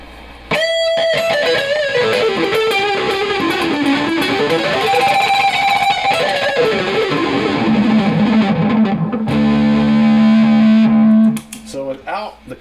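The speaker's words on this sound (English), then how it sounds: "Let me crank the distortion now. I'm gonna turn on the noise gate here" An electric guitar plays through cranked distortion and a noise gate, running into a mini spark pedal with hard clipping. Sustained, bending, gritty notes ring loud and close, then cut off abruptly at the end.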